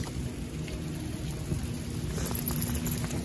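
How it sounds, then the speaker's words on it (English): Steady rain falls outdoors, a constant close hiss and patter with no speech, lasting the full few seconds. "it's raining"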